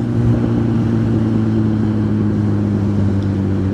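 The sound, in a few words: road traffic noise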